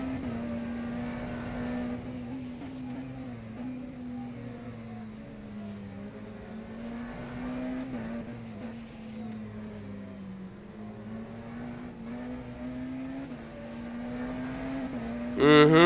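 An LMP2 prototype race car engine in the rFactor 2 racing sim drones steadily for the whole stretch, its pitch wavering gently as the car holds speed, then swelling louder with a sharp rise at the very end.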